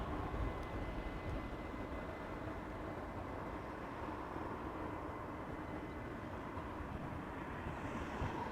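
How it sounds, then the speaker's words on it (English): An airliner lands on runway 36R at Amsterdam Schiphol Airport with a steady, broad jet roar and low rumble. The sound holds at a constant, moderately distant level throughout. "Meanwhile, some more traffic landing on 36 right."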